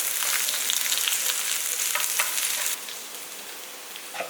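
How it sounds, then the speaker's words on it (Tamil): Country chicken curry sizzles and fries in a pan with a dense, close crackle, loud at first and then dropping to a softer, steady sizzle. "குழம்பு நல்லா பொறிச்சிக்கிட்டு இருக்கு பாருங்கள்"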